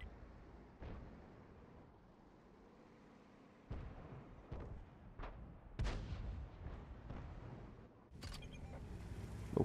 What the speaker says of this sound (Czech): Nálet je připraven.